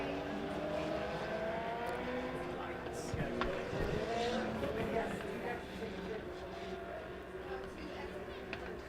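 Legends race cars circle Springfield Raceway during a Turkey Bowl heat race, a steady engine drone rising and falling as the pack passes, heard under continuous announcer commentary over the PA.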